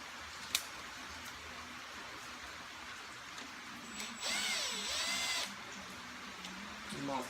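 A power drill drives screws and bolts while installing a Z Machine high flow oil pump, with one loud whirring burst of about a second amid quiet shop background.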